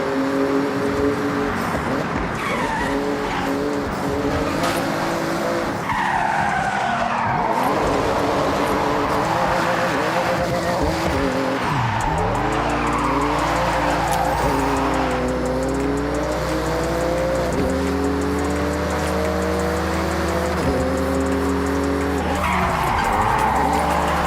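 A Porsche race car in a video game screams through a speed zone, its engine revving up and down through gear changes while tires skid and squeal almost continuously, loud and close for the whole stretch.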